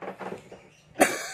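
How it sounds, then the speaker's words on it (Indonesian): A single sharp cough bursts out near the end, close and fairly loud, after a stretch of quiet muffled background sounds. "batuk."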